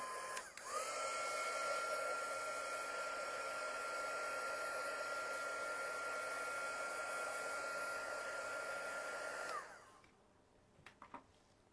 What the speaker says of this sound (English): I'm going to use my heat tool to get rid of our glue strings, hopefully.